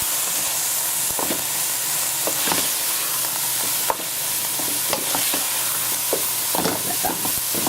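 Butter melts and fries in a pan for watercress saag, giving a continuous close sizzle and hiss with scattered stirring scrapes and pops throughout; no voices.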